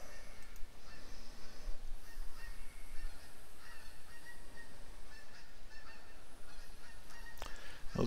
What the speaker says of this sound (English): Those geese need to shut up, too.